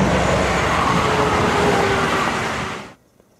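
Steady, loud roar of trucks and cars rushing past nearby on a road, a broad continuous wash of engine and tyre noise that cuts off abruptly near the end.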